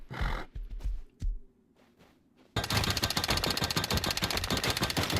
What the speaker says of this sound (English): It's a little unnerving that the sound of the horse is behind me all the time.